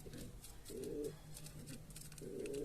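A pigeon at its nest gives soft, low cooing phrases, three short rounded coos spaced through the moment, faint and close against a light background hiss.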